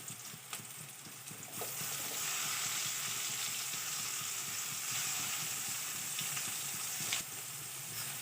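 Onions frying in a hot pan give a loud, steady sizzle and hiss that jumps up after a short quieter opening and then holds, with a few stirring clinks.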